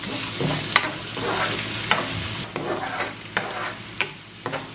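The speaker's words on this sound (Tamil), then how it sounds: "போட்டு இதை மிக்ஸ் பண்ணி இதையும் கொஞ்சம் வதங்க விடுவோம்." Onion, curry leaves and green chillies sauté for vegetable noodles, a steady close sizzle broken by repeated spatula scrapes and stirs against the pan, no voices.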